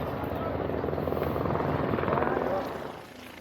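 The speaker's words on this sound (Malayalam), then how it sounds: "ഒരു ഹെലികോപ്റ്റർ ഇറങ്ങി നോക്കിയേ." Helicopter landing at Kedarnath in Uttarakhand, a steady whirring rotor chop heard from a distance, fairly faint and continuous before fading slightly, with people talking nearby.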